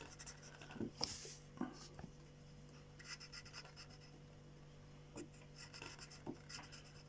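Soft, faint scratching of a pen moving across paper in short intermittent strokes, with a steady low hum in the background.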